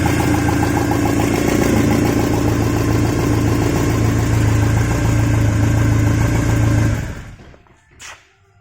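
A Porsche 944 engine idles steadily after a head gasket and cam belt replacement, a loud, even mechanical drone close by that cuts off abruptly near the end, followed by a brief clunk.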